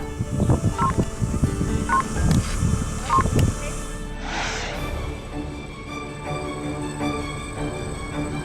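Solar-powered emergency telephone in a park being dialed: several short electronic key tones in the first few seconds, followed by a brief hiss and a quieter hum, with faint background voices.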